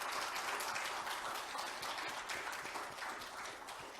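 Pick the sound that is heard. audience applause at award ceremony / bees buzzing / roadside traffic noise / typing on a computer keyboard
audience applause at award ceremony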